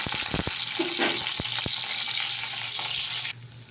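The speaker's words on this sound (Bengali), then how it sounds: "তেল দিয়েছি, একটা শুকনো লঙ্কা ফোড়ন দিয়েছি, আর রসুন একটু থেতো করে দিয়েছি। ওটাকে ভেজে নিই।" Crushed garlic and a dried red chili fry in oil with a steady bright sizzle, punctuated early by several spoon taps against the pan, close by, ending abruptly.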